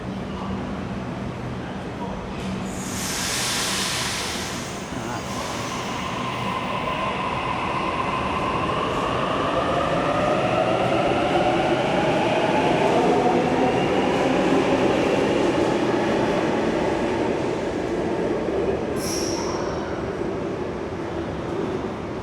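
A Sydney suburban train rumbles and rolls steadily, its motor whine rising as it gathers speed, with a short squeal near the start and another near the end, heard from inside the carriage.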